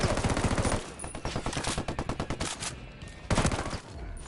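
Submachine guns fire in the Ghost Recon Wildlands video game: rapid, loud automatic bursts with fast even rhythm, a short pause, then another burst, close and dominant.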